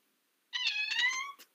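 A pet cat gives one clear, close meow after a moment of silence, a drawn-out tonal cry that ends with a brief soft trailing chirp.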